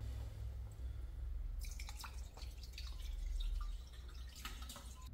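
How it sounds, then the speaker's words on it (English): Demineralized water being poured into the cooling system of a Dodge Cummins during a water pump replacement; a close, splashing trickle begins after a short pause and continues over a steady low hum. "Pour it in here, just water for now."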